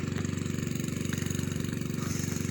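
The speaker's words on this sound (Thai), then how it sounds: "กะมาสูบน้ำนะครับ" A small engine drives a water pump in a rice field, a steady close thudding idle with a fast regular pulse and no break, loud and alone.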